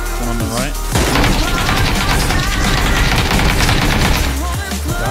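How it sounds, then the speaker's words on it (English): Loud automatic gunfire in the video game PUBG, a dense sustained burst of rapid shots filling most of the clip with booming impacts, briefly preceded and followed by talk from players. "Start shooting!"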